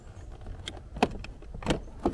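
Small plastic clicks and knocks as a rear speaker grille is pried and wiggled loose inside a 3rd gen Toyota Tacoma cab, with three or four sharper snaps over a faint rattle, close and fairly quiet.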